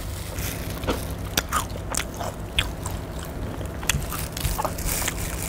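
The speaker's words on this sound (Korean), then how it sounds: "소리가 들리시나요? 바삭바삭한 소리?" Crisp bites into the crunchy skin of fried chicken, a handful of sharp, irregularly spaced crunches heard up close over a steady low background hum.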